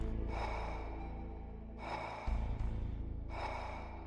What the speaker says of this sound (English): And you can hear Snake's breathing sounds.